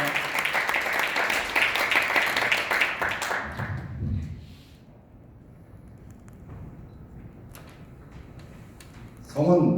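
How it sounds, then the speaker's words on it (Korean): Wedding guests clap for the groom's father, a brief burst of applause that dies away after about four seconds, leaving a quiet hall with faint rustling and a voice starting at the end. "아버님께 감사의 박수 부탁드립니다."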